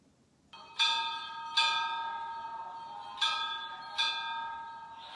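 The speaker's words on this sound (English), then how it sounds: "first of all, you hear some bells" Four bright bell strikes ring out in an uneven rhythm, each tone lingering and decaying into the next, clear and close in a quiet space.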